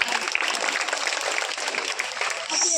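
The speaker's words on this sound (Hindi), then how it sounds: "एक बार जोरदार तालियां इस बच्ची के लिए" An audience claps for a young girl on a school stage, a dense patter of applause heard moderately near for a couple of seconds.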